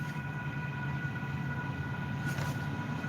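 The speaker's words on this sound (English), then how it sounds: "Gotta wait for the train to pass" A train rumbles past in a steady, continuous low roar with faint tonal whine, fairly quiet and unbroken throughout.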